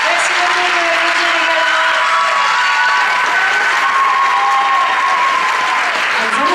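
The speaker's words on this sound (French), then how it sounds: "Merci beaucoup de l'applaudir" Loud, continuous applause with some cheering from a pageant audience greets a Miss Côte d'Or candidate. Voices and an announcer can be heard through the steady clapping.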